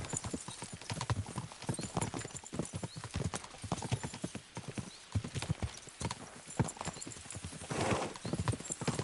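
Horses gallop in the medieval video game Kingdom Come Deliverance 2, with busy, overlapping hoofbeats pounding close and steadily and a whinny near the end, all under a loud mix of game sounds.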